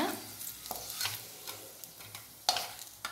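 Garlic, tamarind and curry leaves dry-roast in a pan, a soft crackle under repeated scraping strokes of a spatula at an irregular rhythm, with one sharper clack near the end.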